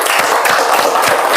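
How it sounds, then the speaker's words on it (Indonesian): A classroom group applauds group 2: dense, steady clapping from many hands, loud and close, filling the whole short moment. "kita beri aplaus untuk kelompok 2"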